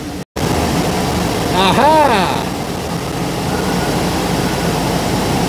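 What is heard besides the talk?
car air conditioning running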